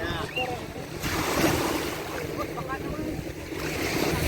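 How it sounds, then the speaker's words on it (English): Ocean waves washing onto a beach in Dubai, a steady broad surf wash with wind buffeting the microphone and faint voices of people and children nearby. "it's the waves."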